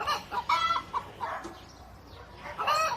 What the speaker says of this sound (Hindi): कुछ देर बाद रामू अपनी मुर्गियों की देखभाल करने के लिए मुर्गियों के फार्म आया